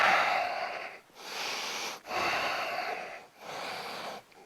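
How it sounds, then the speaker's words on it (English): Big, deep breaths during an at-home banded workout, close and fairly loud. Three or four long, rasping breaths repeat at a steady rhythm, with short pauses between them. "Big deep breaths."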